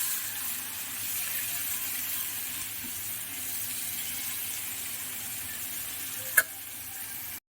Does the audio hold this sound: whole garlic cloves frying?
yes